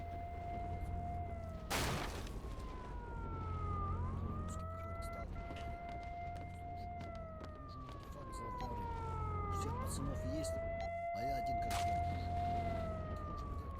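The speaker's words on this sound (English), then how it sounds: "the siren is coming out of this radio" Wailing police-style siren from a radio in a video game, looping up-and-down sweeps with a sharp burst of noise near the start, steady at moderate level against background hum.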